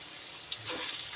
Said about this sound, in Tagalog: Ngayon ay mainit na ang ating kawali. Umuusok-usok na yan. Kaya maglalagay na tayo ng sibuyas.